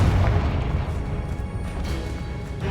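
A fiery Confringo blast spell in the Hogwarts Legacy video game: a heavy, booming low rumble that rolls on loudly and steadily for the whole stretch, with no voices over it.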